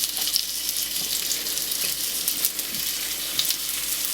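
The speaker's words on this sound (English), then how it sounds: "Right, let's get these patties on." Burger patties sizzling as they are laid into a hot pan, a steady, bright, crackling hiss with small pops, fairly close and continuous throughout, with no talking.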